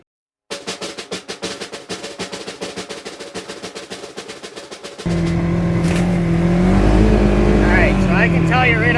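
ATV on Traxion Glacius winter tires: a rapid rhythmic engine putter as it starts off, then a loud steady engine roar with tire and wind noise as it drives over ice.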